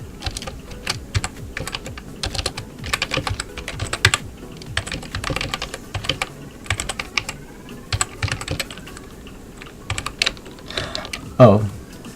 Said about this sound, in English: All I do is type this simple command.